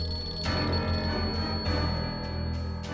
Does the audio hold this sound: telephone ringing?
yes